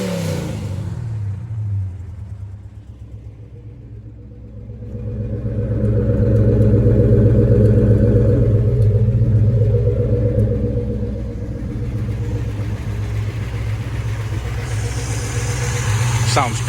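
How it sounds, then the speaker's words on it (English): A 1971 Chevrolet Chevelle's exhaust rumbles loudly and steadily at close range, swelling as the engine revs up and easing back to a deep idle. "Let's listen to the exhaust."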